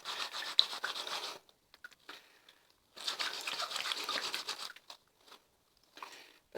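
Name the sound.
scrubbing a dirty hat clean by hand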